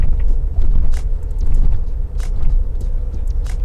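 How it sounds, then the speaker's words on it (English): Low, continuous road rumble inside a car on Continental ComfortContact CC7 tyres, with muffled thumps as it rolls over sharp bumps, steady and fairly loud with no talk. "we're gonna be driving over some pretty sharp bumps"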